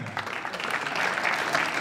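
Spectators applauding during a men's 10m air pistol final at a shooting World Cup in Changwon, a short stretch of soft, distant, steady clapping.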